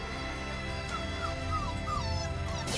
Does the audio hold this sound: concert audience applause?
no